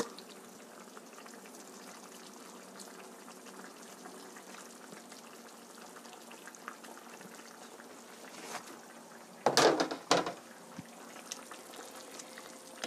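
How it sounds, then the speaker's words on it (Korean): Korean tofu stew simmering uncovered in a pot, a steady soft bubbling and sizzling throughout, with a few louder clattering knocks near the end. "두부가 익을 때까지 따끈하게 익을 때까지 졸여주세요"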